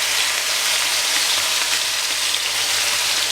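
Steak searing in hot ghee in a cast iron skillet, a loud, dense, continuous sizzle with an even hiss and no pauses, heard up close.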